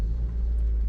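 Manual car engine revving as the gas is pressed on a sloped road, a low, steady rumble with a deep hum close by, continuous and unbroken for under a second.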